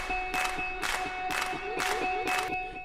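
Sampled claps hit on a steady beat in a synth-based EDM track, five or six sharp, layered claps evenly spaced over sustained tonal synth notes.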